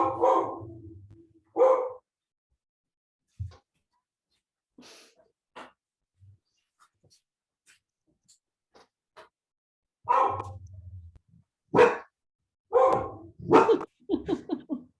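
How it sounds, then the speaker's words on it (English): A dog barks at the door in short, loud bursts, with a cluster near the start, scattered softer sounds in a quiet middle stretch, and a run of rapid barks near the end. "My dog is like at the door because it can hear the other dogs barking"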